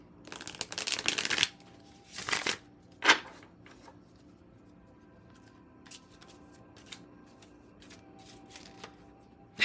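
A tarot deck is shuffled and cut by hand, with loud riffling bursts at the start followed by softer, scattered card flicks and taps close by.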